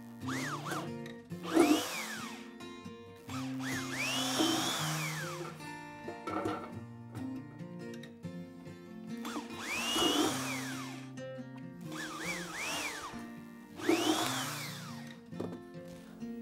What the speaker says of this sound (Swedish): håller borren mot magen så jag är stadig och så borrar jag